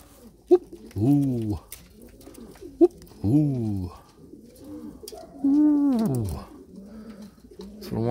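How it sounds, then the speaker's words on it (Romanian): Pigeons coo nearby in repeated low, throaty rolling calls, several phrases with pauses between them, loud and close against a quiet background. "Frumoase păsări."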